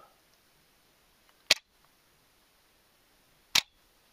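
An SLR camera's reflex mirror and shutter make two sharp mechanical clacks about two seconds apart, each a quick snap followed by a brief rattle, with quiet in between.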